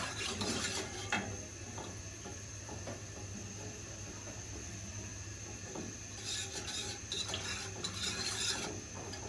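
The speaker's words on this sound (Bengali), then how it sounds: "এভাবে লাড়ার উপরে থাকবেন, আর লাড়ার উপরে না থাকলে কিন্তু নিচে ধরে যাবে।" A spoon scrapes and rubs around the bottom of a pot of chocolate mousse mixture on the stove, repeated close scraping strokes with brief louder bursts, no talk.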